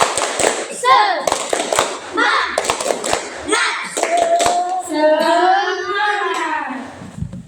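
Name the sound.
classroom students doing a rhythmic spirit clap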